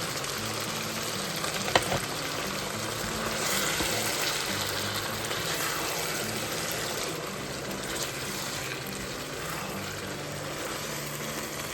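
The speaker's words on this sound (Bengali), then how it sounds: "আমি এখানে ভেজিটেবলসগুলো ভেজে নিচ্ছি ফ্রাইড রাইসের জন্য" Vegetables sizzle steadily in a frying pan for fried rice, a continuous bright hiss with faint stirring scrapes and one small clack, heard close with no talking.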